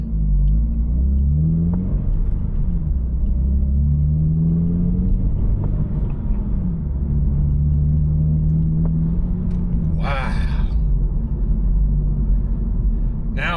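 A Toyota GR86/Subaru BRZ with an upgraded clutch pedal spring heard from inside the cabin on a short drive, its engine droning low and steady as the pitch rises and falls through gear changes, with a brief clatter near the end.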